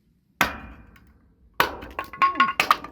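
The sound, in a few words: chopping cedar firewood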